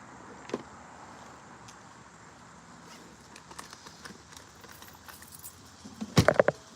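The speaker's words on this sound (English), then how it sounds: "Make sure I got my house keys set." House keys jangle in a short, sharp metallic burst at the very end, after a quiet room with faint scattered clicks and handling noises.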